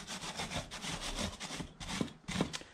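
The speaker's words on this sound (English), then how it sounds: "Just gonna clear the snow away. I had a steel brush, so why not?" A steel brush scrubs snow off a studded ATV tire, giving repeated close, harsh rasping back-and-forth strokes in a steady rhythm, with no voices.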